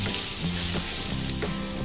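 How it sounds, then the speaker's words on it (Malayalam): Spice powders, turmeric, chili and coriander, sautéing in a pan over a medium flame: a loud, continuous close sizzle with faint stirring scrapes and no talking. "ഇനിയും ഈ പൊടികളുടെ പച്ച മണം മാറി വരുന്നവരെ ഒന്ന് വഴറ്റി കൊടുക്കാം മീഡിയം ഫ്ലെയിമിലിട്ടാണ്"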